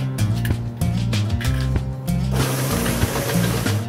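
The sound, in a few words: electric mixer beating eggs into cookie dough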